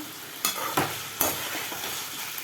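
A spoon stirs a potato and brinjal fry in an oily pan, with several scraping strokes at uneven intervals over a steady sizzle.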